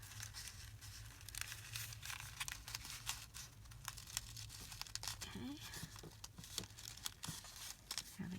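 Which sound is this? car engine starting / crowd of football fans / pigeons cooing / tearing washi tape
tearing washi tape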